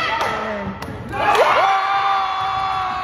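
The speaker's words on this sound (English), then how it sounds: "And the crowd went wild." Crowd at a deaf school basketball game erupting into loud cheers and whoops after a thud, building and holding steady across the gym.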